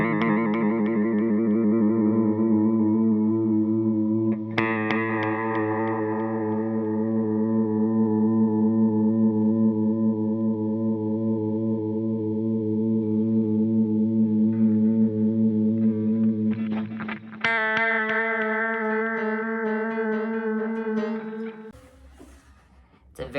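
Boss CH-1 Super Chorus analog pedal in vibrato mode with depth at maximum, a sustained guitar tone wavering with strong pitch warble, changing to a new note near the end before fading.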